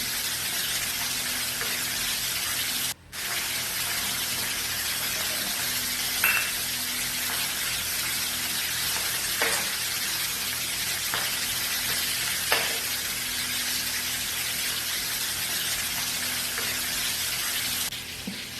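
Fish sizzles steadily in a frying pan during home cooking, a constant close hiss of hot oil with a few faint clinks and pops, no voices.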